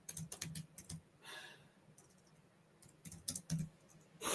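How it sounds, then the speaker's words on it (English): Quick bursts of typing on a computer keyboard, clusters of light key clicks separated by a quieter pause, close but faint, with no talking. "I think you are typing in Patek."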